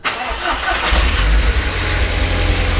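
A car engine that has sat unused for a while cranks briefly, catches and settles into a loud, steady, low idle close by.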